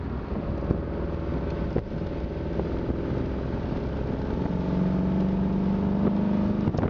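A 1975 Porsche 914 drives along with a steady engine drone and wind noise, dropping from fourth to third gear as the engine note rises and holds a higher pitch near the end.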